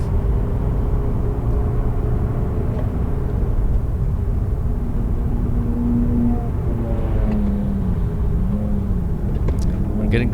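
A Lexus GS450 Hybrid accelerates on a lap of the Nurburgring, its engine humming in a steady low drone with a rising tone, while a driver talks over the sound.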